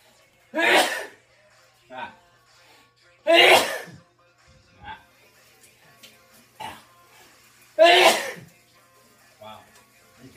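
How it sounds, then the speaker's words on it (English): Three sharp sneezes burst out a few seconds apart, close and loud, with quiet sniffs and small breaths in between. "burnt bread makes me sneeze"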